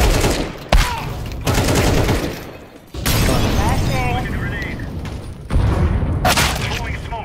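Grenade blast and gunfire in a first-person shooter game: a sharp boom followed by bursts of rapid shots and further thumps over several seconds, with players calling out throughout.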